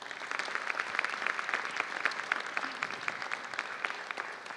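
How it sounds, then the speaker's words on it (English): New students at a 2025 convocation applaud themselves, a dense, even wash of many hands clapping from a large crowd, heard somewhat distant and holding steady throughout. "So let's give yourselves a round of applause."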